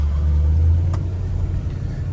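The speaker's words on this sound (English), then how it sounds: "Motor sounds good. I don't hear any belt squeal, nothing that sounds like maybe an exhaust leak or anything." A 1970 Cadillac Eldorado's engine drones steadily while driving, a loud, even low rumble close by with no squeal or sputter, holding constant throughout.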